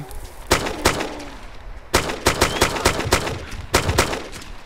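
DayZ video game gunfire rings out in sharp single shots and quick clusters of three or four, crisp and fairly close over a faint background hum.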